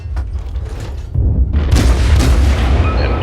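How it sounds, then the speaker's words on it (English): Naval guns fire in the World of Warships game with heavy, deep booms and rumbling blasts, loud and continuous, swelling into a dense roar of gunfire partway through. "concentrate fire on this battleship"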